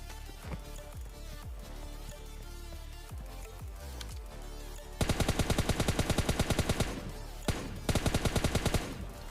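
Gunfire in PUBG Mobile Lite, with scattered footsteps and shots at first, then loud rapid bursts of automatic fire repeating in tight rhythmic volleys, briefly pausing before another burst.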